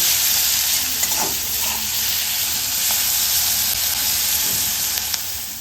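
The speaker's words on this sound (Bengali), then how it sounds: "এই যে পেঁয়াজটা ভাজা ভাজা হয়ে গেছে" Salted onions fry in a pan with a steady, loud sizzle, punctuated by a few scraping stirs of a utensil, no voices.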